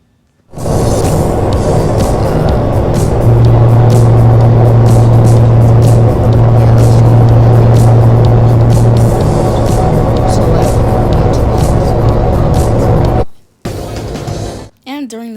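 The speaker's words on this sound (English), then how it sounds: "During this landing, I'll just let you hear the engines and let the plane land." Airliner engines roar steadily during a landing in the Roblox game, a loud continuous rumble with a sustained low hum that drops out abruptly near the end before a short quieter stretch.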